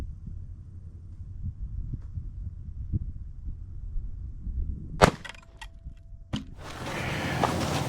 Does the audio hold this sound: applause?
no